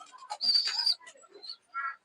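Pigeons, young birds of a Pakistani breed, coo and chirp nearby in short, separate calls with gaps between them, fairly faint and without talk.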